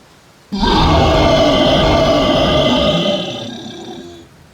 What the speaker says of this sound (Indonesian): Pada waktu yang sama, terdengar raungan panjang.